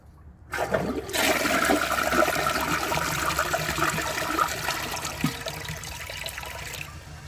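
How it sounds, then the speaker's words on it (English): A 2017 Sterling Windham toilet flushes in a steady, loud rush of water that starts abruptly and keeps churning and trickling at a fairly even level, with no voices. "I'm going to give it another flush and see what it does"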